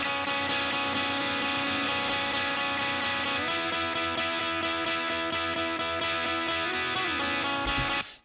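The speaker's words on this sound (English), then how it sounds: "I want to make this even more distorted." A heavily distorted electric guitar lead, set up for a particular tone, plays sustained single notes that change pitch a few times, loud and alone before cutting off.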